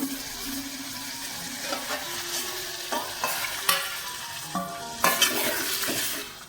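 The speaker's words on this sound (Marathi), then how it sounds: "राहिलेला मसाला आहे पाणी टाकते आणि तो पण टाकते" Leftover masala sizzling in a pan for a ribbon fish curry, with water poured in and ingredients stirred; steady frying hiss runs throughout, broken by several sharp scraping and clinking stirs, no talking.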